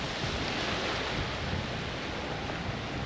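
Sea waves roll over a sandy beach on Jersey between St. Aubin and the Grand Hotel, a steady broadband wash with no talking, close and continuous.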